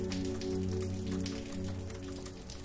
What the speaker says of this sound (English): Picture the first drops of rain falling slowly around you, their gentle patter inviting you to relax.